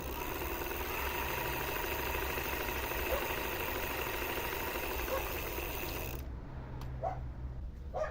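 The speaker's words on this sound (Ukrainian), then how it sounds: "Зараз шестерні поки притираються" Steady mechanical whirring with a fine ratcheting, gear-like texture from newly installed gears running in on a MXUS 500W electric bicycle hub motor runs continuously for about six seconds, then cuts off, leaving a few faint clicks and knocks.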